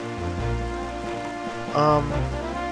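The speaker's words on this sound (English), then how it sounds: "And it's raining." Rain falls in The Legend of Zelda: The Wind Waker, a steady, moderate patter over the game's background music, with a brief louder burst partway through.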